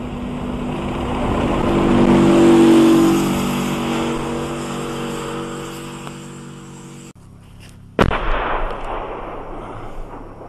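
Artillery fire strikes a treeline during street combat near Debaltseve: a long rolling rumble swells and fades, then a sharp, loud blast cracks out near the end with a short rumbling tail.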